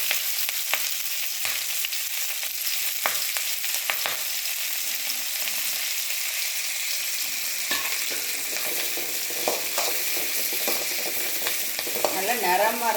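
Young veld grape (pirandai) pieces sauté in a hot pan with a steady, close sizzle, broken by occasional stirring scrapes and a brief bubbly flutter near the end, no voices.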